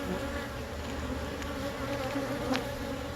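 Honey bees buzz steadily on a hive frame during a hive inspection, a close, continuous drone with a few louder passes, no voices present.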